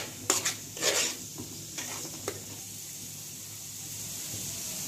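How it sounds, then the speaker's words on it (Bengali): Chilli powder and coriander powder being stirred and fried in a pan for a Bengali chicken and potato curry, with a few scraping clatters early on, then a steady soft sizzle underneath. "1 চামচ মরিচের গুঁড়া, 1 চামচ ধনিয়ার গুঁড়া, নেড়ে চেড়ে মশলাটা কষিয়ে নিতে হবে।"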